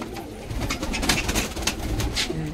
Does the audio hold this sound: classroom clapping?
no